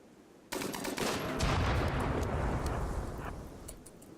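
Rapid video-game gunfire in RimWorld, a loud sustained burst of overlapping shots and bursts that swells for a few seconds, then gradually thins and fades.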